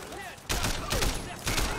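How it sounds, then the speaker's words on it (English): Rapid bursts of gunfire in Sleeping Dogs: Definitive Edition's Year of the Snake DLC, with loud, close volleys of shots in three clusters over a steady backdrop of game noise. "Just more shooting."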